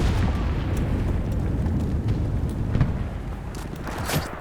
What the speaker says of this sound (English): Oh, I hear a mortar.